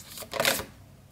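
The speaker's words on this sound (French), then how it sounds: "Je laisse les cartes tomber." Tarot cards dropping and sliding onto a table in a short, soft papery flutter lasting about half a second, close by and fairly quiet, with no talk.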